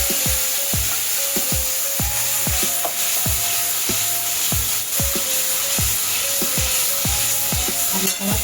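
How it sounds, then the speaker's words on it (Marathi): Garlic cloves and ground spice masala with turmeric fry in oil over a low flame, a steady loud sizzle broken by regular scraping stirs about twice a second, with no voices. "हळद घालायची आणि तसा चांगला मसाला होऊ द्यायचा स्लो गॅसवरती."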